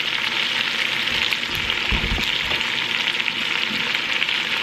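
A beef roast sizzling as it browns in a pan, a loud, steady hiss of frying with a few soft clunks partway through, no voices.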